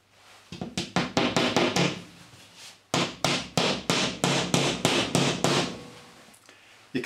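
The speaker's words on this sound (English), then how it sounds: "And then I'm going to take the fixing, push that through the hole. And I'm just going to tap that in." A hammer taps a plasterboard fixing into a wall with a quick run of sharp, evenly spaced knocks, a short pause, then a second steady burst of close, loud strikes.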